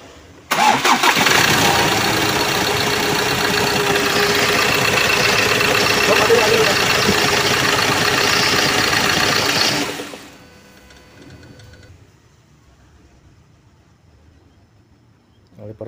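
A Ford Ranger T6 engine cranks and runs loudly and steadily for about nine seconds, then cuts off, leaving a quiet background.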